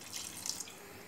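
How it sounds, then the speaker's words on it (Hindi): Water is poured from a glass into a cooking pot of mutton, a short faint splashing pour lasting about a second, heard alone. "और इसमें हम तकरीबन एक गिलास के करीब पानी डाल देंगे।"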